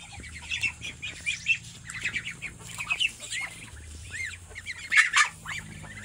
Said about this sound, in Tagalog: Yan na yung mga manok.